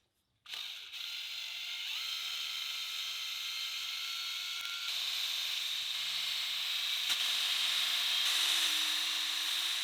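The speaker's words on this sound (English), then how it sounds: "It came very segregated, so I needed to use the drill mixer." A drill mixer whirs steadily in a bucket of separated drywall primer, a continuous close mechanical drone with slight shifts in pitch as the paddle churns, no voices.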